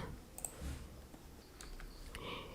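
A single sharp computer mouse click near the start, with a few faint clicks later, heard close over low room hum while someone installs a WordPress application through a GoDaddy hosting panel.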